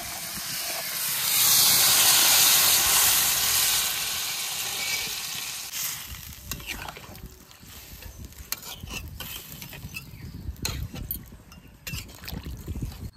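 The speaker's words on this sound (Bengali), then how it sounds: "এবার জল দিয়ে দেবো।" Water is poured into a hot pan of village-style desi chicken curry cooking over a wood fire. It erupts into a loud, rushing sizzle and steam hiss, then fades to quieter bubbling and clatter.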